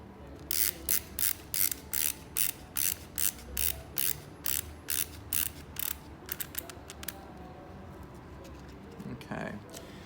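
Crisp, evenly paced ratchet clicks, about a dozen in a row, as a push-in dial on an EXOS cast is turned to tighten its lacing, followed by softer handling noise and faint background chirps.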